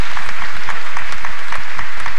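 Congregation at a Nazarene camp meeting claps for a district leader, a dense burst of hand claps running throughout, close and loud, with a few voices mixed in.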